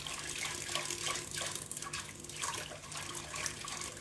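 Water poured into a bowl to dissolve yeast for no-knead bread dough, a steady, continuous trickling pour close by for a few seconds with no talking.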